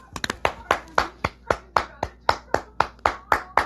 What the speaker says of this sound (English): I'm giving you a round of applause.